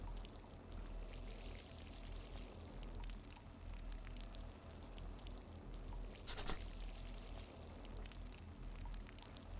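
Water is poured out steadily during a game, a continuous close stream splashing for nearly ten seconds with a brief louder splash partway through, no voices.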